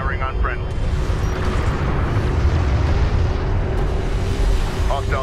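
A deep, sustained rumbling blast fills the whole stretch as an enemy craft is destroyed in the strategy game Homeworld: Deserts of Kharak, loud and continuous, with brief radio-style voice chatter at the start and end.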